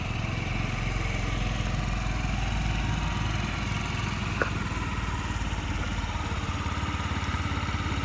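A 2017 Yamaha Jog SA55J fuel-injected scooter engine idles smoothly and steadily, a soft, even purr that holds constant throughout with no talking.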